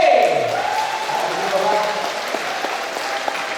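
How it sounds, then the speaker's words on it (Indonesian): A choir festival audience applauds a jury member at an opening worship service, with steady moderate clapping beneath a speaking voice that carries through at the start. "Dewan juri kita berikan tepuk tangan yang paling meriah untuk Bapak Andi Marlon Kamulan SD."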